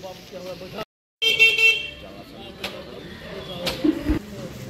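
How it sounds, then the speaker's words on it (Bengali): A car pulls up outside and its horn sounds in short toots amid people chatting, the honks fairly clear over the voices. "গাড়ি এসে গেছে।"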